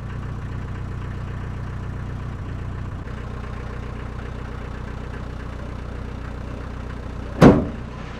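A truck engine idles steadily in cold Himalayan winter conditions, not yet warmed up, a low continuous rumble with a brief loud knock or thump near the end.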